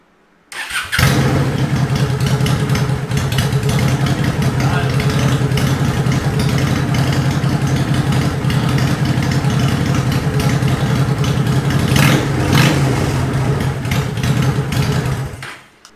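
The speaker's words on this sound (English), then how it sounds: "the bike starts up, first click of the button, and it idles" A restored, previously abandoned motorcycle engine starts on the first press of the button while already slightly warm, then settles into a loud, steady, close idle that runs unbroken until it cuts off near the end.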